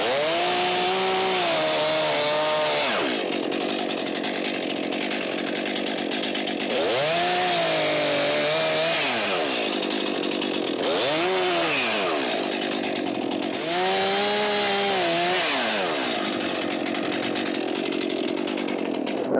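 A chainsaw cuts a felling notch into a standing tree trunk. The engine is loud and close, running continuously and revving up and down in several surges, with no talking.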